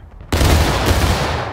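An artillery cannon fires in War of Rights, a Civil War battle game: one sudden, loud, close blast that booms and then rolls away in a long fading tail.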